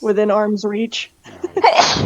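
A single sharp sneeze bursts out near the end, close and loud, following a stretch of casual talk at a tabletop game session.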